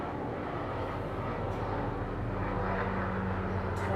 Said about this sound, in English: Totally a helicopter.